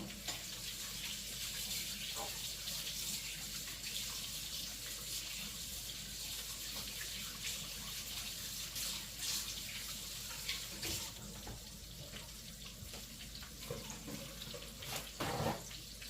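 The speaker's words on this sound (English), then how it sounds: "I rinse my hands." Tap water runs steadily from a kitchen faucet as hands are rinsed beneath it, a continuous soft hiss and splash with brief spattering bursts near the end.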